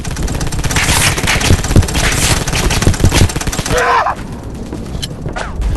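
Rapid bursts of close, loud automatic gunfire in the Polyfield 2 game, continuous rattling shots that thin out toward the end.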